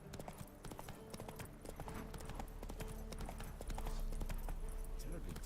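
Geralt's horse Roach trots with steady clip-clopping hooves in The Witcher 3, close and continuous, layered over background music and game ambience.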